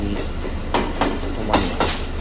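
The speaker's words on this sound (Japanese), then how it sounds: "なんか回送電車やったと思うんですけど、走ってきて、 この回送電車 急に" An out-of-service train runs past on the rail line, its wheels beating a steady clickety-clack in four evenly spaced pulses over a continuous low rumble, fairly close and with no voices.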